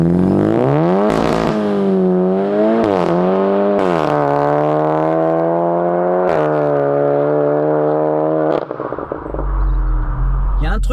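Volkswagen Golf GTI TCR Stage 2 engine, tuned to 360 horsepower, revving hard through a long sustained pull with rising and falling pitch sweeps, close and loud, ending in a burst of wind or rumble noise.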